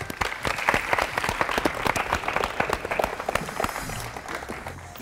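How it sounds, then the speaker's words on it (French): A small group of people claps steadily for several seconds, a crisp rapid patter of hands, close by and fading slightly at the end. "Les gars, on peut applaudir, hein."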